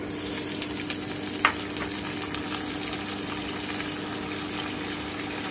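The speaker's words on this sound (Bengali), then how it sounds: "আমি হালকা করে একটু ভেজে নিচ্ছি আপটা কমিয়ে দিলাম এবারে আমি গাজরটা দিয়ে দিচ্ছি" Carrot frying lightly in a pan for vegetable chop gives a steady, even sizzle that runs through the whole stretch, with one brief sharper crackle near the start and no talking.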